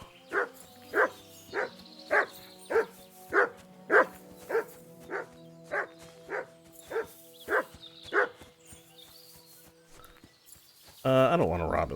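Steady run of about fourteen evenly spaced barks from a dog in Kingdom Come: Deliverance 2, close and clear over soft ambient tones, ending in a burst of louder noise.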